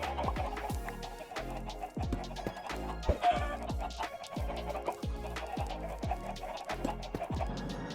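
Chickens on a video game farm in a Create-modded factory build give repeated clucks and squawks over a steady layered machine hum, a dense rhythmic stream with no one talking.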